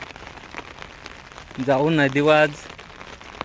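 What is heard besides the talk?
heavy rain falling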